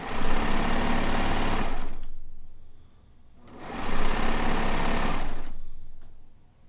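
A home sewing machine stitches in two rapid bursts, each a close, steady mechanical whir lasting a couple of seconds, separated by a short pause.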